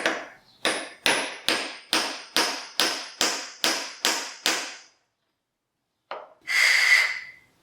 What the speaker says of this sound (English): I'm gonna use a socket to drive this down in there. And yeah, I'm not really sure what's gonna happen when I hit this.